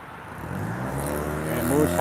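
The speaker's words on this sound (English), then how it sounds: "Some guy got a big engine." A passing car with a big, loud engine swells to a rumbling roar as it nears, rising in loudness toward the end of the clip.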